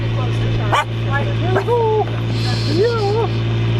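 Small rescue puppies yip and whimper in short, high bursts, several times at close range, over a steady low hum.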